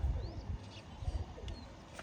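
Pigeons at a rooftop loft where birds are kept under netting give soft low coos and faint chirps against a light background hum, fairly close, no talking.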